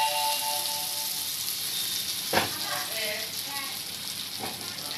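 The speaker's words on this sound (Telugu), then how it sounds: "ఈ పోపు పచ్చడిలో కలిపేస్తున్నారు." Hot tempering stirred into a raw mango and elephant foot yam chutney, giving a steady soft sizzle and frying crackle with a few sharp clinks of a spoon against the vessel, close and continuous.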